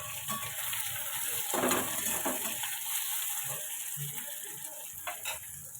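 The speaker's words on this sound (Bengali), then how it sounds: "পেঁয়াজটা একটু ভেজে নিয়ে ব্রাউন করে" Chopped onions fry in a pan until they turn brown. A steady hiss sizzles throughout, broken by a few scraping and stirring clatters from a utensil in the pan.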